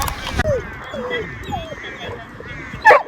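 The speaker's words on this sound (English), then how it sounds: "Our dog Charlie was very excited" A small, excited dog gives a few short yips and whimpers at Monkey Mia beach in Shark Bay, with one sharper burst of barking near the end, heard close over outdoor background noise.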